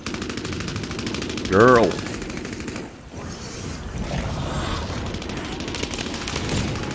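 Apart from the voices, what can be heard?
gunfire in the BloodHunt video game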